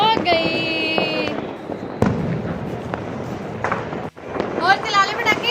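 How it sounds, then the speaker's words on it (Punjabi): Diwali firecrackers and fireworks crackle and pop during an Amritsar celebration, with scattered sharp bursts and noisy fizzing behind steady talk and high children's voices. "ਹੋਰ ਚਲਾ ਲੈ ਪਟਾਕੇ"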